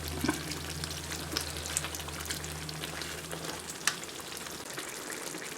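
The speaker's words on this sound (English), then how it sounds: "Allow the gravy to evaporate a bit." Roasted mutton curry gravy simmering down in a pan, giving a steady close sizzle and bubbling hiss with small pops and crackles throughout, no talking.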